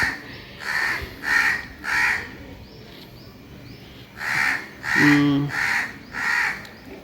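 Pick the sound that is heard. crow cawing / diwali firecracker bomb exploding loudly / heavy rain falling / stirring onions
crow cawing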